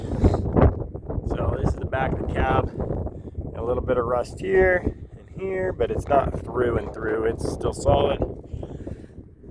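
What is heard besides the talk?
wind blowing into microphone outdoors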